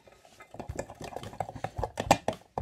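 Cake batter being mixed in a jug with a utensil, a quick run of irregular clinks and scrapes against the sides, close and fairly quiet.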